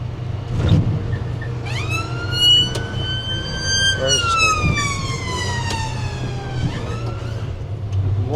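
An ambulance siren wails loudly close by as it passes a truck on a UK road, its rising and falling tone sweeping through several cycles over steady cab engine noise.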